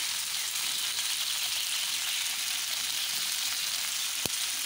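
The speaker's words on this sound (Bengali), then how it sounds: "দিয়ে দিলাম অল্প পরিমাণে তেল, দিয়ে দিলাম কিছু পেঁয়াজ কুচি। এখন দিয়ে দিচ্ছি গাজর।" Carrots and chopped onions fry in a little oil on a griddle, producing a soft, even, continuous sizzle with a single sharp click near the end; no talking.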